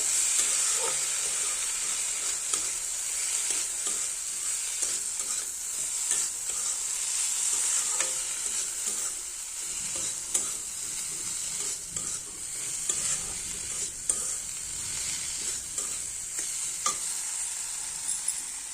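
Spices with sugar, chili powder, turmeric and salt are stirred in a hot pan, giving a steady close-up sizzle and hiss of frying with scraping stir strokes, and no voices.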